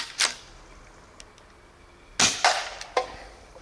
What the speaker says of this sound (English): I just cycled the gun and now it's ready to shoot.